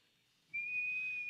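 A shrill acorn cap whistle blown between the thumbs outdoors, one steady piercing high tone starting abruptly and held for under a second, fairly faint with slight breathy noise.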